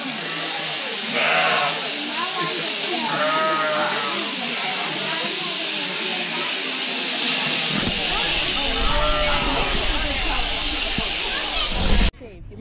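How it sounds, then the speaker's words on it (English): Sheep bleat several times at a sheep shearing festival, wavering calls rising over a constant hissing background, with a sudden loud knock near the end. "Watch Lauren's sheep"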